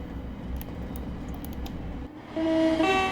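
A Thameslink Class 700 electric train running at speed in the Train Sim World game, with a low rumbling drone and faint clicks, then a rising whine of steady electronic tones taking over near the end.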